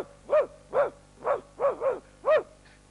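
A voice imitates an angry dog with six gruff, barking yelps in a quick irregular rhythm, close and fairly loud.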